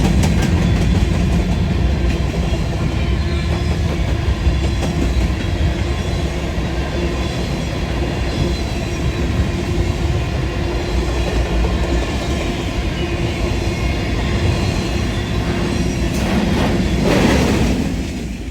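A Union Pacific freight train hauled by CPKC locomotives passes on the La Grande Subdivision in Oregon, a loud, steady rumble of rolling cars with rhythmic wheel clatter that lasts the whole time and swells slightly near the end.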